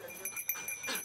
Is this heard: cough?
no